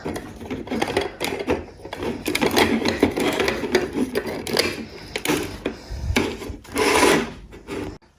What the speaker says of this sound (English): This opens, you only unscrew the top, and you remove just like that.